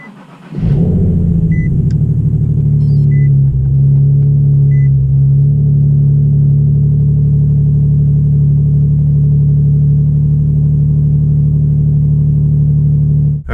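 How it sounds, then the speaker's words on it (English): A car's engine cold-starts on a 21°F morning, a sudden loud rumble that settles into a steady, close idle. A few faint beeps sound early on, and no one speaks. "I'm going to do a cold start, and let's see what we have here."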